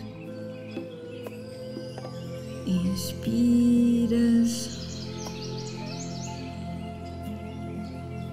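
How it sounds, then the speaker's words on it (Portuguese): Birds chirp in short bursts over a soft, sustained tonal background, and a voice speaks a single word partway through. "escutar o som dos passarinhos"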